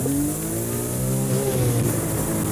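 A car revs hard with its wheels spinning and slipping in a muddy field, the engine note rising and falling in loud, continuous strain.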